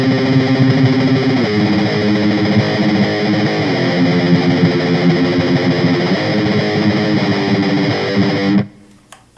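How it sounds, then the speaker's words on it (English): Tremolo-picked power chords on a distorted electric guitar in the style of a song, a dense, continuous loud wall of rapid picking with shifting chords, cutting off abruptly near the end. "Played something like with the tremolo picking they use,"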